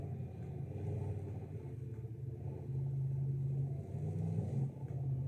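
A scout vehicle's engine in the off-road driving game SnowRunner drones with a steady, low mechanical rumble, and its pitch rises slightly partway through as it pushes over rough terrain.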